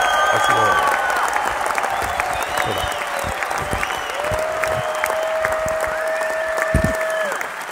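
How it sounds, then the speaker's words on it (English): Applause and crowd noise from a live audience during a statistics presentation hold steady throughout, with cheering and voices and a musical jingle with sustained tones layered over the clapping. "Let's give you a round of applause."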